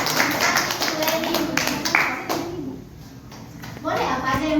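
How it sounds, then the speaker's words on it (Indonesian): Children in an Indonesian classroom clap together in a quick rhythmic burst, close and fairly loud, with a voice and classroom chatter mixed in before the clapping fades and voices return. "Ayo tepuk tangan semua ini Bu"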